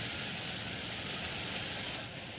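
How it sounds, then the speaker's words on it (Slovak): A burning aircraft engine in the War Thunder flight game, a steady dense roar with a low rumbling undertone holding loud and even throughout, no voices. "a horí mi motor"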